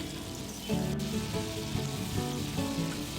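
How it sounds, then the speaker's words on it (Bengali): Raw mango peels frying in a wok give a continuous close sizzle that surges loudly after a brief quieter start, with an even, dense texture and no voices. "কড়াইতে দিয়ে এগুলো ভালো করে নেড়ে ভেজে নিতে হবে।"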